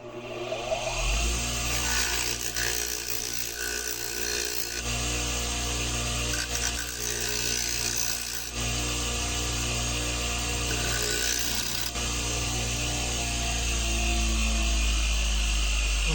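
A steady, loud motor whine of a bench grinder used as a sander on a mug runs throughout, with harsh abrasive grinding layered on top, shifting slightly as material is pressed against it.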